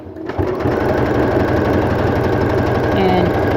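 A sewing machine runs steadily while stitching down an appliqué on a Black Panther-inspired henley T-shirt, a close, continuous mechanical whir starting after a brief pause and holding for several seconds.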